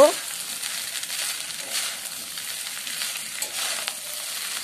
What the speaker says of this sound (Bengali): ভালোভাবে 2 মিনিট মিশিয়ে নেব